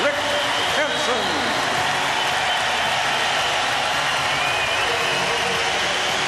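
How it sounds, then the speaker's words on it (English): A stadium crowd at a 1996 Canada vs Russia hockey broadcast in Vancouver applauds and cheers steadily and loudly, a dense wash of clapping that fills the whole span, with an announcer's voice briefly over it. "The crowd is saluting Rick Hansen"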